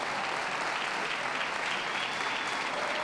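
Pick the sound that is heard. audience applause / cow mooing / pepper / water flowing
audience applause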